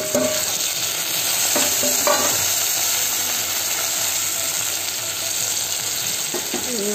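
Chopped tomatoes go into a pan of frying onions, raising a loud, steady sizzle with scraping stir sounds and a few metallic clicks, heard up close without speech.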